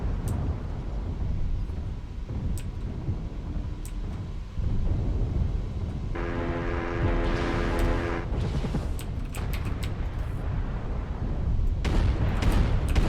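Artillery strike in MechWarrior, a low continuous rumble of distant blasts with a rising droning tone midway and heavier booms toward the end.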